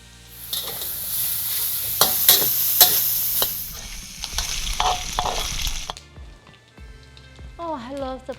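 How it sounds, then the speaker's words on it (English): Pork belly pieces frying in hot oil, a loud steady sizzle and crackle for about six seconds, then quieter with a voice speaking near the end. "We're going to fry them until become golden and crispy."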